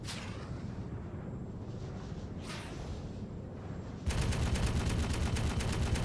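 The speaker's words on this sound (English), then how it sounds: "I'm going to dump rockets and then go." Rapid rocket fire from a helicopter in Arma 3, a dense rumbling barrage with a whooshing launch partway through, then an even louder, steady ripple of firing that runs to the end.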